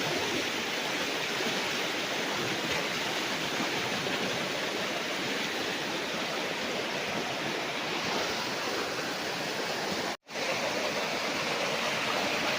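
A river running beside a farm lot in Majayjay, Laguna gives a steady, full rush of flowing water with no talk, holding constant for the whole stretch apart from one very brief dropout near the end.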